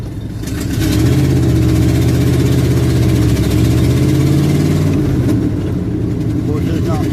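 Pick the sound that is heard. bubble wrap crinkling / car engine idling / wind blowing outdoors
car engine idling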